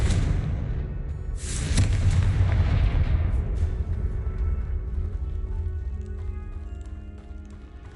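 A Confringo spell detonates in Hogwarts Legacy as a loud, rumbling explosive blast about two seconds in, followed by a long roaring decay that slowly fades over several seconds.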